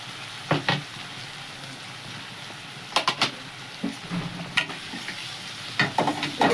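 Spices, ginger-garlic paste, chopped tomato and salt frying in a pan, with a constant sizzle broken by bursts of scraping and stirring and clattery spoon strokes. Close and fairly loud, with no talking.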